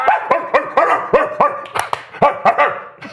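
A dog barks repeatedly at a ball in a fast, regular series of sharp, loud barks heard close by, with no talk over them.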